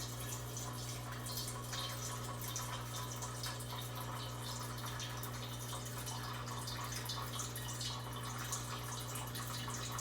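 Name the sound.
water filling a bowl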